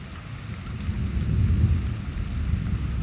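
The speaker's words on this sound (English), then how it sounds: "See, it's a thunder." Thunder rumbles low and heavy through a rainstorm, swelling in the middle over a constant hiss of falling rain.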